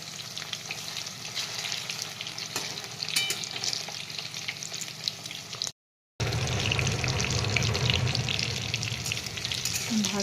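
Chicken keema pakora frying in hot oil hisses and crackles steadily and close by, broken only by a brief moment of silence partway through, then resuming with a fuller, louder sizzle.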